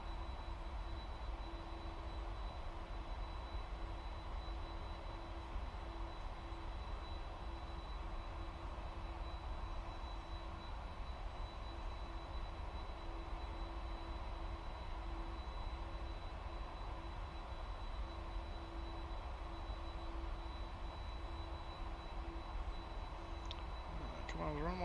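A plane's engine drones steadily as it climbs away from the runway on a simulated flight from WIII to WADD, a constant broadband roar holding level throughout, with faint talk mixed in.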